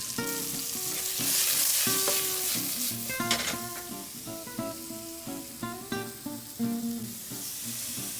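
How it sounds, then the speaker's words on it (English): Mushrooms seasoned with salt and pepper stir-fried in a pan for burger toppings: a continuous close sizzle with clinks and scrapes of a utensil stirring at an irregular rhythm, no talk. "just literally stir fry it for a minute or saute"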